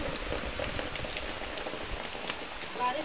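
Steady rain pattering on surfaces, a dense continuous hiss of drops throughout, fairly close and even in loudness.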